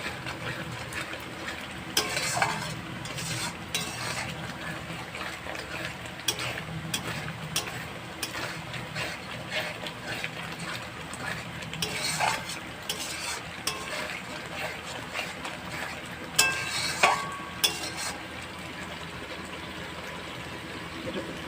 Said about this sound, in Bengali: কষানো হোক মশলা দিয়ে তেলটা ছেড়ে দিয়েছে